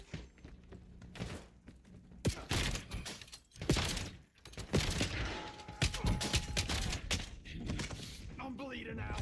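Gunfire in Call of Duty Black Ops 7, sharp irregular bursts of shots and impacts mixed with clanks and other game effects, with a voice talking among them.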